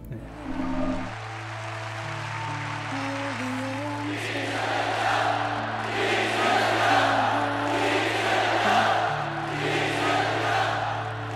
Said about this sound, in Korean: 지금 이 여러분들의 함성 소리 기억하겠습니다